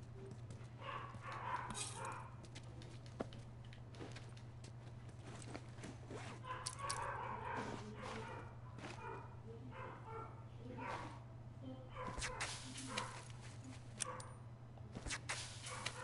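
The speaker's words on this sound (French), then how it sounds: "Pourquoi Jiro il aboie comme ça en bas?" A dog barks downstairs in the video game The Last of Us, in scattered bursts of varying loudness over a steady low hum, with some footsteps and other game noises.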